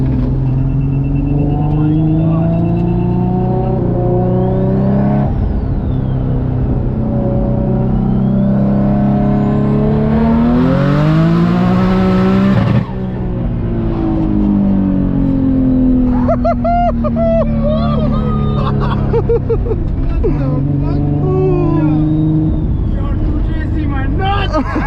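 A 1000-horsepower turbocharged Infiniti G35 roars loud and close as it accelerates through rising, climbing engine pitch, the revs falling at a gear change before building again, with people talking over it.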